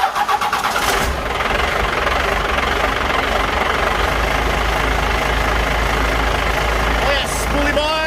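A Ford F150 pickup fitted with a new turbo fires up and settles into a loud, steady running drone close by, with excited voices whooping over it and a brief high rev near the end.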